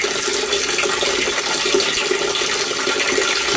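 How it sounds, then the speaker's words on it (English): Garden-hose water runs through a rain gutter into a rain barrel, a steady, fairly loud rushing and splashing flow that holds even throughout, with no one talking. "got some water coming through"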